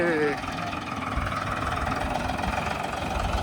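A tractor engine runs nearby at a steady, rumbling mid-pitched drone with a slight knock, during wheat sowing with a chopper and a plank leveller. It stays continuous throughout, with a brief tonal whine at the very start.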